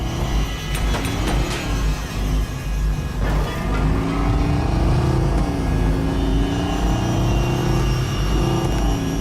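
A car engine in the video game Watch Dogs hums and rises in pitch, with a steady loud drone and shifting tonal bands suggesting revving and acceleration, layered over constant background game noise without speech.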